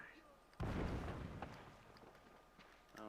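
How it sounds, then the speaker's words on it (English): A grenade blast in the game Uncharted bursts in loud and sudden, a broad low-heavy boom whose rumble slowly decays over about two seconds, with faint game sounds on either side. "Well, there goes that grenade."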